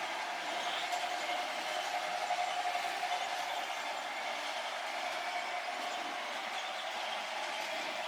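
A small HO scale model coal train runs steadily with a faint, even whirring hum and light rolling clatter, quiet and unbroken.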